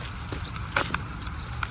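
Gentle water trickling and splashing in a solar-powered pond water garden, soft and continuous with a few brighter drips standing out close by.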